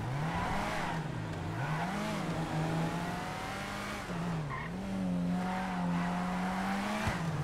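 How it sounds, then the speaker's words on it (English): A car engine in a role-play video game drones and shifts pitch as the car drives over dirt, with tires squealing and skidding through the turns in a steady, close drone. "Okay, this is not the best car for dirt."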